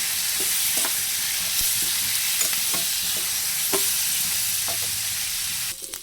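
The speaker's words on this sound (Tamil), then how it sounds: "தக்காளி வதங்கும் போதே கொஞ்சம் கருவேப்பிலையும் சேர்த்து வதக்கிக்கலாம்" Tomatoes and curry leaves sizzle steadily in a hot pan, with occasional soft scrapes of stirring and no talking.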